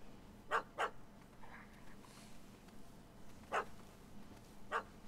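A small dog yaps in short bursts, two quick barks, then a pause and two more single barks, fairly faint against a quiet background, a puppy in the video game The Witcher 3: Hearts of Stone.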